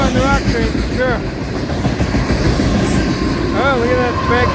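A CSX rock train led by a CPU locomotive rolls past at a meet in Folkston, Georgia, with a steady close rumble of wheels on rail, a few squealing wheel tones, and a voice talking over the passage.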